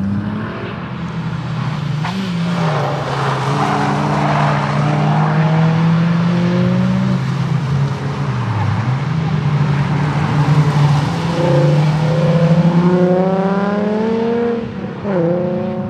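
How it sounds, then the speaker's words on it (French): A track car drives hard around the Lurcy-Lévis circuit, its engine loud and close as it climbs through the revs, drops on downshifts and climbs again over sixteen seconds of continuous running. "une bonne voiture de piste"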